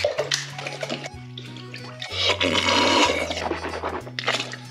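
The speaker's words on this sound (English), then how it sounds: "we're gonna start pouring in our soup base so that way we can get a nice, good flavor to our spaghetti" Gatorade poured as a soup base into a pot for spaghetti, a continuous watery splashing and gurgling pour over a low steady electronic hum, loudest in the middle stretch.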